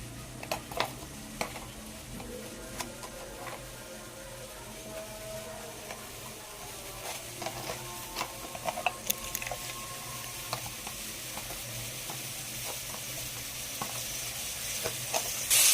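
Tomato sauce with garlic frying in ghee for Egyptian koshari, a steady close sizzle with scattered pops and crackles that grows slightly busier toward the end.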